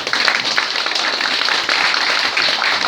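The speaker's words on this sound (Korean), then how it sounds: "뜨거운 박수 한번 해주시죠" A crowd at a Korean neighbourhood residents' committee year-end party gives sustained, dense applause for a retiring community centre head, steady and close throughout.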